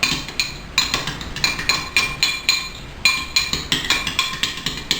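A spoon clinks steadily against a glass or ceramic bowl while stirring a sauce of Dijon, mayonnaise, yellow mustard, horseradish and honey, sounding as quick rhythmic taps close by, with a short pause midway.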